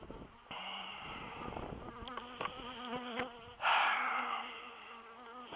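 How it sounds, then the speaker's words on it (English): Honeybees buzz close around a hive being moved, several insects droning and whining near the microphone with one loud bee passing right by partway through. "There's a few bees not happy with me."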